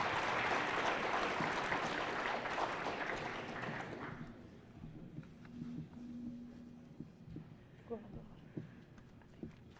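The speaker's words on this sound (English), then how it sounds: "Let's have a round of applause for our students." Audience applause for students at the close of a high school academic quiz competition, a dense burst of clapping for about four seconds that cuts off, followed by murmuring voices and scattered thumps.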